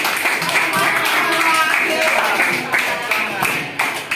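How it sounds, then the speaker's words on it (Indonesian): Students in a high school physics classroom clap together in a burst of close, uneven claps, with voices talking over the clapping. "tepuk tangan semua"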